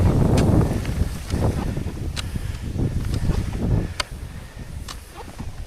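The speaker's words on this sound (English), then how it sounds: "I bet we have 25, 30 mile an hour gusts." Strong 25 to 30 mph wind gusts roar and buffet the microphone in snowy woods during cross-country skiing, loud and continuous with sharp bursts and crackling, and no talking.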